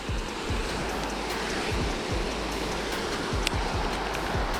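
Waterfall beside a golf course pond, a steady close roar of rushing, splashing water that fills the whole stretch without pause or talk.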